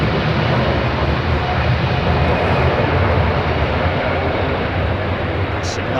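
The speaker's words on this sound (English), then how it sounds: "Take off thrust set." Airliner jet engines at London Heathrow roar steadily at takeoff thrust, a loud, continuous broadband rumble with no breaks, heard from close by and alone without talk.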